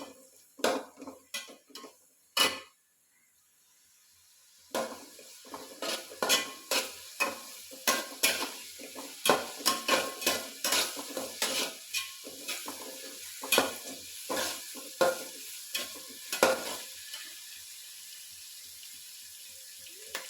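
Onion sautés in a pan with a light sizzle, while a spoon stirs and scrapes in irregular, fairly close clatters and taps.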